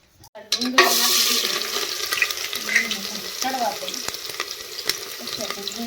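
Onions dropped into hot oil in a pressure cooker hit with a sudden loud sizzle that settles into steady close frying, with faint clinks over it.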